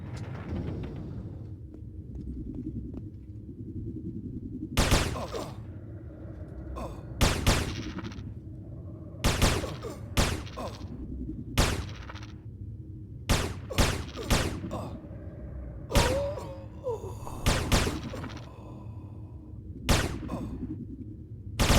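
Rifle fire in the online game Anarchy Online on Rubi-Ka: a dozen or so sharp, loud single shots spaced irregularly over a low steady background hum, and no talk among them.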